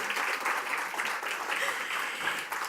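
An audience at an awards event in New York applauds in a steady, dense clatter of clapping that holds evenly for a few seconds.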